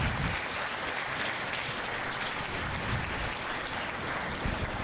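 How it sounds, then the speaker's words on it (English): A barn crowd at a county swine barrow show applauds the show staff, with steady, dense clapping that holds evenly throughout at moderate distance and no voices over it. "please give them a round of applause"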